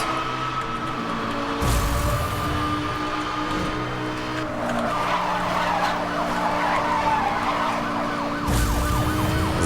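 Racing car in Need for Speed: Hot Pursuit (2010) roaring at high speed near 300, a steady loud engine drone with whooshing passes and skidding tire noise, a sharp burst near the start and end.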